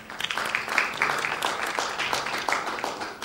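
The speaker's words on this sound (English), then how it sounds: "round of applause for Prashant." Audience at a business conference giving a round of applause, moderately faint, uneven clapping from a scattered crowd with separate claps standing out.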